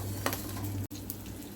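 Three dry red chillies roast with pepper and cumin in a pan for rasam, giving a soft, steady sizzle with light scraping from stirring and a brief break partway through.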